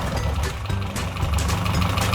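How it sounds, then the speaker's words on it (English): Nissan KA24E engine idling with a steady low rumble and a fast, light ticking of fuel injectors running through it, heard up close. "That's all injector noise."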